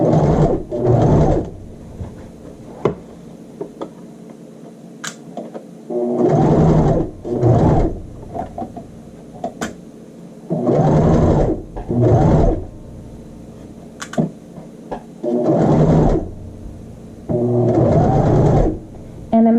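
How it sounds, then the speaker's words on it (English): A sewing machine stitching a child's shirt sleeve along a half-inch seam, running in repeated bursts of steady whirring, each lasting a second or two, separated by short pauses, close and clear. "I'm sewing on the blue line, 1/2 inch away from our raw edges."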